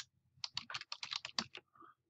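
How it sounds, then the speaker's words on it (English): Computer keyboard typing while entering a CSS selector in Dreamweaver: a quick run of about a dozen close, crisp key clicks over roughly a second, then a softer final keystroke, with no talking. "I'm just going to type it in."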